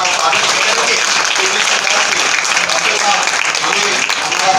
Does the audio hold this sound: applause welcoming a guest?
yes